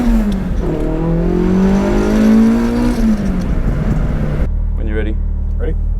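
A Toyota AE86 fitted with a 4.7 differential accelerates hard with wheel spin, its engine note climbing steadily and loudly up close, then cutting off abruptly to a low idle.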